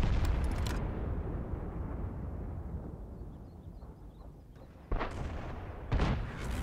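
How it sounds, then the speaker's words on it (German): A tank gun fires in World of Tanks, a heavy boom opening the span and rolling off into a long rumbling tail, followed by two sharper, closer blasts near the end. "Schuss ist raus"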